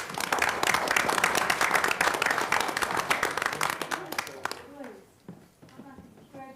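Audience applause at a county commission meeting, a dense burst of many hands clapping for several seconds that thins out and fades, followed by a person beginning to talk.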